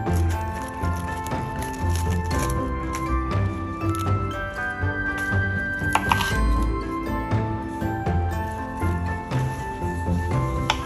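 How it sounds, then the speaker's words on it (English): Knife chopping napa cabbage into small pieces on a board, steady repeated cuts close by, with a low background hum and faint kitchen clatter. "Peel the napa cabbage and cut them into small pieces."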